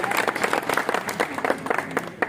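A crowd at a farewell ceremony for a police station officer claps steadily while garlands are presented, with dense, rapid applause and voices mixed in.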